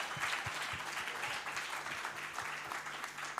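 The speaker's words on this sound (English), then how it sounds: "I think we need to give them a very big round of applause." Audience applause at a cooperative innovation awards ceremony in Uganda, steady and fairly faint, with a low rhythmic background beat under the clapping.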